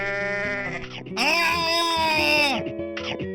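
A goat bleating in a video game: a loud, drawn-out wavering bleat, preceded and followed by shorter tonal cries, with musical or game sounds around it.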